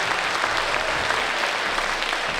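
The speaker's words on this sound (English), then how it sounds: "Let's have a big round of applause for Jared on the tuba there." Concert audience applauding a tuba player after an orchestral performance, a dense, loud, sustained wash of clapping from a full hall.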